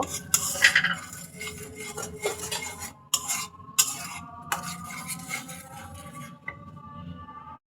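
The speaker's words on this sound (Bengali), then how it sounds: "আমি এখন মশলাটাকে সুন্দর করে কষিয়ে নেব।" A spice paste made with pasted tomato is sautéed and stirred in a pan for a prawn head and leg dish. Repeated metallic scrapes and clinks of the spoon against the pan come in uneven bursts over a faint cooking sizzle.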